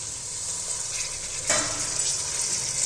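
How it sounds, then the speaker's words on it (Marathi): Chopped vegetables for veg pulao sautéing in oil, a steady soft sizzle with a single louder stir or scrape near the middle, no voices. "सर्वच आपण या भाज्या चांगल्या परतून घेणार आहोत तेलामध्ये"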